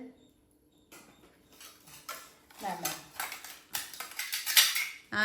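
Plates and dishes clatter and clink in irregular bursts that grow busier and louder toward the end, close by in a home kitchen, with no talking.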